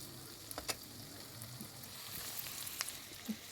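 Onion fries with a pinch of salt in a pan for stuffed cabbage, a faint continuous sizzle with a few light clicks of a utensil against the pan.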